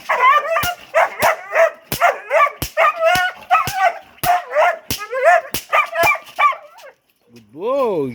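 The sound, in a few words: dog barking and biting during bite training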